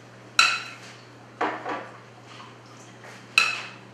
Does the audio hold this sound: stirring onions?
yes